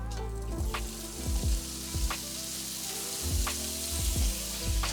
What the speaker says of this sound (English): we're gonna throw the pork belly in and start rendering down the pork belly fat.